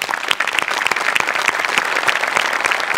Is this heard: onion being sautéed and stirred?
no